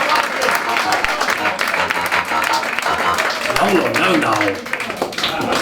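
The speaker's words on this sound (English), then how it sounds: "Give him a round of applause, please." Live comedy show audience at the Edinburgh Fringe applauding, a busy wash of clapping and crowd noise with a performer's voice speaking over it and a short reply heard partway through.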